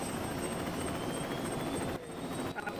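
A helicopter in the Lego City Undercover video game gives a loud, steady rotor and engine drone that continues throughout with slight dips near the end.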